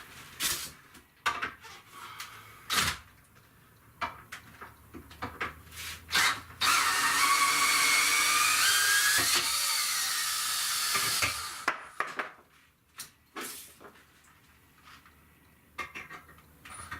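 A power drill backs screws out of a 2x4 board, whining steadily for about five seconds between scattered clunks and handling knocks of wood and tools.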